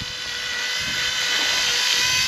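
Drone flying over a beach at Sandy Cape during a fishing trip, a steady high-pitched buzzing whine that holds continuously and close, slightly rising in loudness, with no talking.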